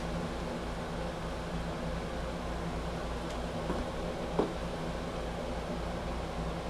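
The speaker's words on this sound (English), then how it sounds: "Please excuse the noise in the background because it is the air conditioning." Air conditioning runs in a loft as a steady, unbroken broadband hiss and hum that fills the whole stretch at an even level, with only a couple of faint ticks and no talking.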